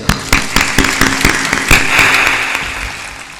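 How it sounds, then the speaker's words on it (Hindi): An audience at a religious gathering with a guru claps hands in sharp, loud bursts that thin into scattered claps, and little talk is heard. "ताली बजा दो"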